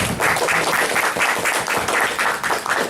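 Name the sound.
audience applause welcoming a speaker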